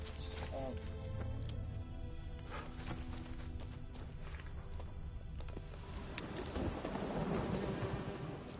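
Thunderstorm with rain in The Witcher III: Wild Hunt, with steady rain hiss, low rumbling thunder and scattered hoof-like clops, fairly faint, with voices talking over it.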